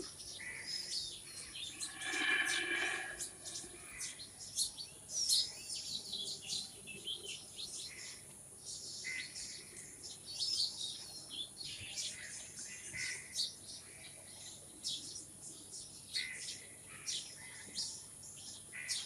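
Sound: birds chirping all around

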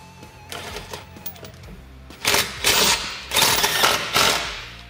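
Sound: driving self-tapping screw into Can-Am Defender skid plate

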